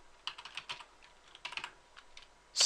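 Someone types a command on a computer keyboard while working on a Windows 7 PC. Close, light keystrokes come in irregular quick clusters separated by short pauses, ending with a sharper, louder strike, and no voices are heard.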